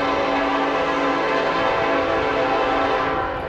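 A westbound Union Pacific manifest train passes in Montour, Iowa, its horn holding one loud, sustained tone over the steady rumble of rolling railcars.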